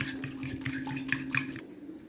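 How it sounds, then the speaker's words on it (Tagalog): Vegetable okoy batter with salt and pepper being stirred in a bowl, a quick series of light scraping clinks from a utensil against the bowl, close and alone, fading out after about a second and a half. "Mix lang natin ng mabuti."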